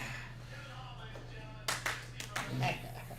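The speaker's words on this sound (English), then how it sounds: "Clap your hands" A few people clap hands on a live UFC 302 watch-along show, a short burst of sharp claps starting midway after a stretch of quieter background, close and fairly loud.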